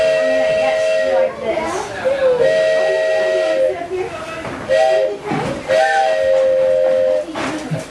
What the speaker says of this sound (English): We have the 4 notes in this 4-chime whistle.